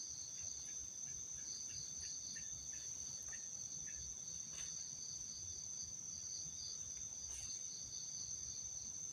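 Crickets chirp in a steady, continuous high drone through a haunted forest at night during camping, faint and unbroken, with a few faint rustles and knocks beneath.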